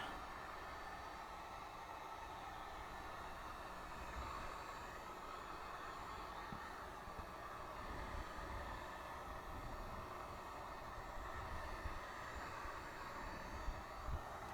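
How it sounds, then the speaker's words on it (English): A heat gun blows over freshly painted scale model parts, giving a steady, even roar of hot air that runs unbroken throughout at moderate loudness. "I'm going to give these a quick shot with my heat gun here to dry them up a little bit"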